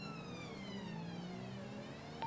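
Police car siren in the game GTA V, a continuous rising and falling wail held steady throughout, fairly faint against background engine drone, with a brief tone near the end.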